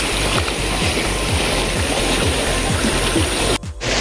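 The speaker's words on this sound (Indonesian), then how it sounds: "landai dan ada aliran sungai dengan view cantik seperti ini" A stream flows beside a gently sloping hiking trail up Bukit Cendono, giving a steady, close rush of running water throughout, with a brief muffled knock near the end and no voices.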